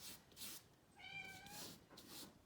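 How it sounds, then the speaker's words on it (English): A kitten gives a single drawn-out, tonal meow midway, moderately loud and close, with faint scratchy brushing or rustling noises before and after in a quiet room. "That's my kitten."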